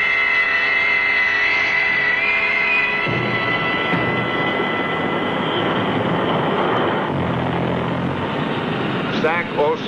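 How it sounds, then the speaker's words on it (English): Military aircraft engines roar steadily throughout a vintage Cuban Missile Crisis film as Strategic Air Command disperses its planes, a loud continuous drone with a shifting pitch partway through and narration heard over it. "Strategic Air Command immediately begins dispersing its aircraft."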